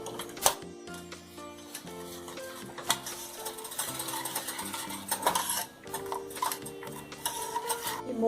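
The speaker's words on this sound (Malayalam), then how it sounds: "നന്നായിട്ട് ഇളക്കുക" A pot of turmeric milk being stirred by hand, with busy, rapid scraping and clinking of utensil against the pan, steady and close throughout, with no talking.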